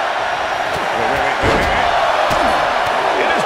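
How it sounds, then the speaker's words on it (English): Arena crowd in the WWE 2K24 video game during a Royal Rumble match, a loud dense roar of fans with rhythmic counting swells and sharp slam-like hits throughout. "Listen to this crowd count the next one in."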